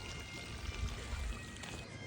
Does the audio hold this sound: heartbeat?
no